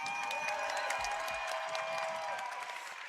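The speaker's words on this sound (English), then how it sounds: "Crowd, can I get some hype for that, please?" A crowd at a World Championships LAN watch party cheers and applauds, a dense, steady wash of clapping and voices that holds loud throughout.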